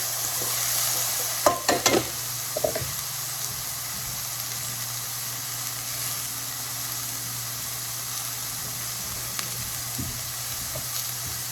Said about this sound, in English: let's give it a stir here